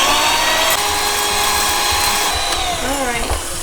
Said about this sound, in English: I'm just gonna go ahead and whisk that up here until it's in stiff peaks